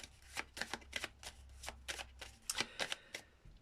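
A 32-card deck is shuffled for a card reading, with crisp repeated riffling and flicking bursts at a steady, quick rhythm, close and alone without talk.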